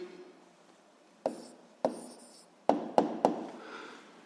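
Pen or pencil writing down the answer to a seventh-grade physics exercise, heard as five short, close scratchy strokes spaced over a few seconds in a quiet room, with no talk.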